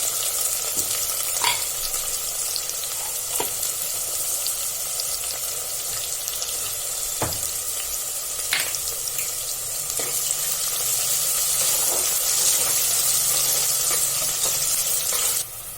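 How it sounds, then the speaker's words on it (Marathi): Sliced onion fries in oil in a pan with a little salt, a steady, dense sizzle throughout with occasional stirring scrapes and clicks. "आपला कांदा आता भाजत आलेला आहे अजून एक मिनिट आपण याला असं तेलात फ्राय करून घेऊया"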